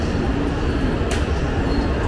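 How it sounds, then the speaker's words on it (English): A loud, steady rushing roar of a Nozomi bullet train going by at high speed in Japan, with a sharp whoosh partway through. "There it goes. That's a Nozomi,"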